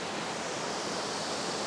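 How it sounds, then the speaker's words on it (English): Waterfall on the Cabot Trail gives a steady, dense broadband rush of falling water, even and unbroken, with no voices. "Look at that, beautiful zigzaggy falls all the way up there."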